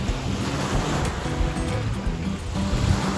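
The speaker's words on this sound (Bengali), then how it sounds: "সমুদ্রের গর্জন" Ocean waves roaring continuously, a dense rushing surf with wind buffeting the microphone, no voices.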